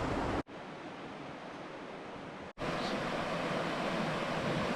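A fast-flowing river in remote winter New Zealand rushes loudly and continuously as a dense, broad roar, broken by two brief cutouts.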